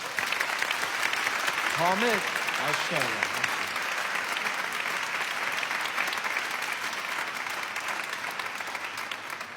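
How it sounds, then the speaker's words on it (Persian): Audience applause fills a room at a Quran recitation class, steady clapping from start to end, while someone briefly speaks over it. "حالا تشویق کنید"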